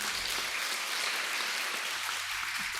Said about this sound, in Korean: 우리 한번 뜨겁게 박수하십시다